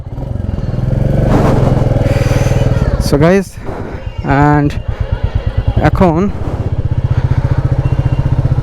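A Royal Enfield Classic 350cc motorcycle idles with a steady low engine thump beneath near, loud conversation that runs through most of the stretch.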